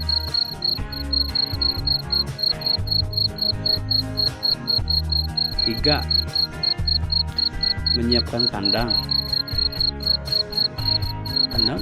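Farmed crickets chirp in a dense, steady high-pitched pulsing that persists throughout, close and prominent, while a voice talks over it with background music.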